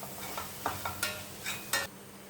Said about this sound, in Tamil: அதையும் சேர்த்து நல்லா வதக்குங்க.